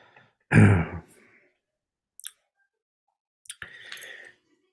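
One heavy, close cough is followed by quieter throat noises and a final rasping throat clearing, separated by silence.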